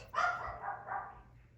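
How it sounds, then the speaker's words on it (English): A dog barking and yipping once, sharp and fairly close, then trailing into softer whimpering yips over about a second and a half. "So the one that you hear barking, yipping, is Bella."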